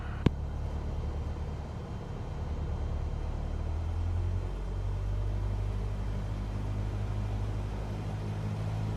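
Cessna 172 piston engine in Microsoft Flight Simulator 2024, running while the plane taxis toward runway 21: a steady low droning rumble that holds for the whole stretch, with a pitch shift partway through.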